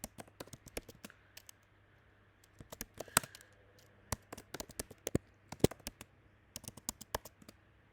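Computer keyboard keys clatter in quick irregular bursts with short pauses, close and fairly quiet, as a password is copied and pasted on a Windows setup running on Linux.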